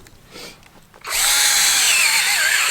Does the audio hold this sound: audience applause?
no